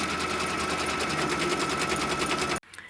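A sewing machine stitches with white thread through fabric, a fast, steady mechanical chatter at close range that cuts off abruptly near the end, with no talking.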